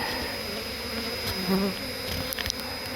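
Honey bees buzz steadily close by during a beehive relocation, a dense droning hum with a few individual insects swelling louder as they pass.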